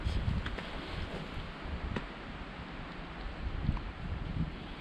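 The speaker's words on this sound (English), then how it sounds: "the wind's in the trees above our head" Wind moving through the treetops overhead on a sunny day, a steady broad rushing hiss with gentle swells and faint rustle, fairly soft and continuous, with no talk.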